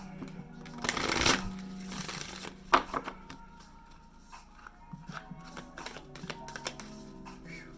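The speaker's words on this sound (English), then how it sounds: "These are so hard to shuffle." Tarot cards being riffled and shuffled up close, a burst of flapping followed by scattered taps and soft slides of the deck.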